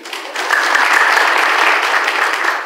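A congregation at a religious gathering breaks into applause, the clapping swelling quickly after a brief quiet start and holding steady and close before easing slightly toward the end.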